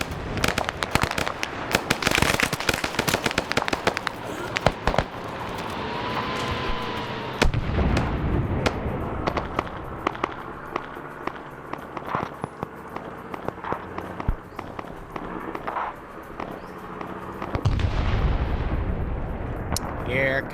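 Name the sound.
gunfire and explosions in a military convoy video game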